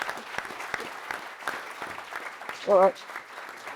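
Light scattered clapping from an audience patters faintly throughout, with someone speaking briefly over it.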